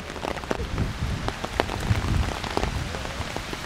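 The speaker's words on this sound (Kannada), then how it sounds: "ಜೋರು ಮಳೆ ಆಯ್ತಲ್ಲ." Heavy rain falls in France in autumn, a dense, steady patter of drops striking surfaces nearby with scattered louder splashes and no voices.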